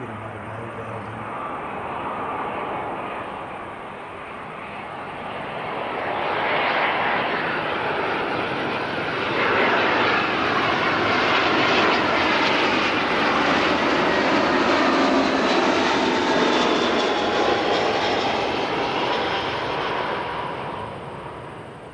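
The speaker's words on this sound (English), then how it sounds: "Jetstar in with a bit of a tailwind, as it turns out." A Jetstar passenger jet lands with a tailwind, its broad engine roar swelling and holding steady for about twenty seconds, loud and fairly close, with no talk.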